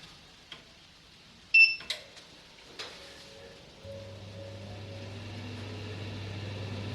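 A pellet stove being switched on: scattered clicks and a sharp beep, then a low motor hum that rises and settles into a steady drone as its fans start up.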